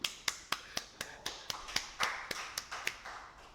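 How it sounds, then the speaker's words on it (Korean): Students in a classroom clap together in a quick, even rhythm of about fourteen crisp claps, moderately loud and close, with no talk over them. "박수."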